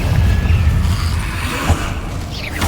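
A Confringo spell explodes in the video game Hogwarts Legacy, heard as a series of low, rumbling booms and crackling bursts at moderate loudness.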